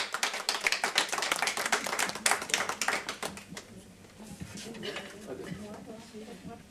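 Audience applause for two guests at a cultural event devoted to Desnos, a lively round of clapping for several seconds that thins out, followed by a voice speaking.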